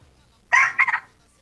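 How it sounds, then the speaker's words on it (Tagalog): A chicken gives a short burst of clucking, two or three quick calls close by, with a quiet background before and after. "Ay, may ingay po manok."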